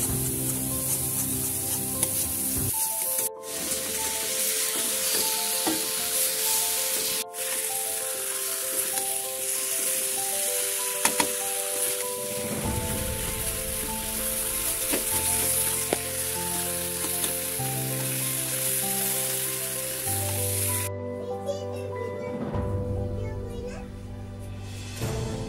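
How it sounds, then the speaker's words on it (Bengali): Luchi deep-frying in hot oil in a home kitchen, a steady close sizzle running throughout with occasional stirring scrapes, while someone talks and a continuous tonal hum sits underneath. "এই দেখুন গরম গরম লুচি ভাজা হচ্ছে।"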